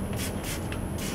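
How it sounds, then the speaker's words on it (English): Mr. Clean cleaner is sprayed onto a keyboard in three quick hissing bursts from a trigger bottle, close and fairly soft. "Give it a nice spray."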